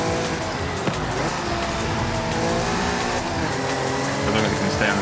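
A Honda NSX races in Forza Horizon 5, its engine droning steadily with rising revs and a brief tire squeal, a continuous loud roar with a voice talking over it.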